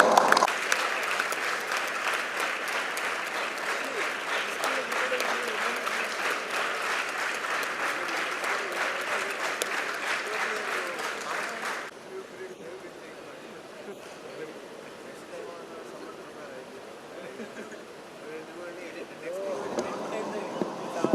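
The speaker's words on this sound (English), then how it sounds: "a big round of applause for the team Downhill Decoders for securing the first prize" An audience bursts into loud, sustained clapping for a prize-winning team at a university coding competition, the applause fading after about twelve seconds into quieter murmuring before a few claps return near the end.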